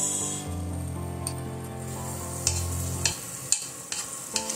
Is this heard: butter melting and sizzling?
yes